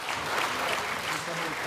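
Applause as Mark Drakeford steps down as Welsh First Minister: a brief, dense burst of clapping from a crowded chamber, steady and fairly loud throughout.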